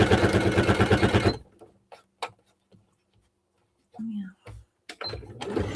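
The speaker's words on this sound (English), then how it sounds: "Get to the end and backstitch." Sewing machine stitching a quilted bag, a short burst of rapid, rhythmic motor stitching at the start, then scattered clicks and handling knocks with a voice speaking briefly.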